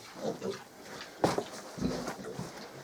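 Month-old piglets on a small farm give a few short grunts and squeals, close by, in scattered bursts with brief pauses between.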